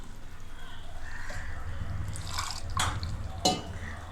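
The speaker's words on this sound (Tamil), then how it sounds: "இப்போ இந்த சமயத்தில் வந்து நம்ம இந்த அரைச்சி வச்ச மசாலா ஊற்றிக்கலாம்." Ground masala paste goes into a pot of baby corn gravy, with a few soft wet splashes and drips against a low background hum.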